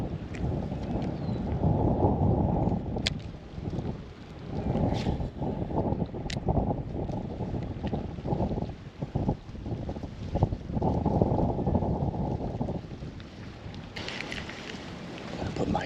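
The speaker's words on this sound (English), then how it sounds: "Just wind." Wind gusts steadily over a fishing boat out on open water during spring crappie fishing, a loud continuous rushing roar that swells and eases, with a few faint knocks in the background.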